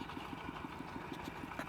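An old engine driving a water pump chugs in rural Thailand, its regular pulsing beat steady and fairly faint, with no voices over it.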